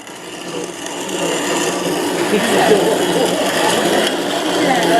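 A grain mill grinds stored corn into flour. A continuous gritty, rasping grind holds steady and close throughout, fairly loud and with no clear pauses.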